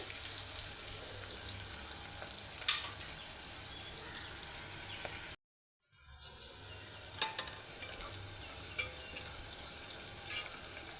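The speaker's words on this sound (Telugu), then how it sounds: "సో ఇదిగోండి ఆనియన్స్ అయితే ఇట్లా నార్మల్గా ఫ్రై చేసుకుంటే సరిపోతుంది" Onions frying in a pan for a ridge gourd curry, a steady low sizzle with occasional light clicks of stirring and a short silent break midway; no talking.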